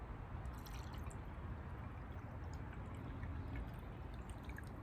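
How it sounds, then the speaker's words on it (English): Fanta soda poured into a glass of Everclear, a faint, steady fizzing splash of liquid filling the glass, continuous and alone for several seconds. "go and pour in the Fanta."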